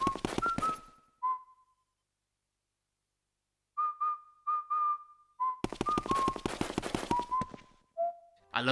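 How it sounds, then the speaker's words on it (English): Luigi whistles a cheerful tune in the Luigi's Mansion video game once the hall lights are on. Two phrases of clear, close melodic notes are separated by a silent gap. "when you light the hall up, he'll whistle instead"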